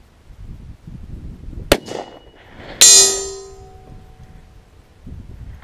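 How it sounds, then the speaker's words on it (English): A .260 Rem bullet strikes a steel gong target at 945 yards, giving a sharp rifle crack and then a bright metallic ring that decays over about two seconds, with faint background rustle. "I heard the gong, but it looked like it went way to the right."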